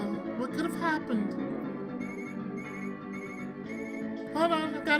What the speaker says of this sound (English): Hold on, I've got a phone call.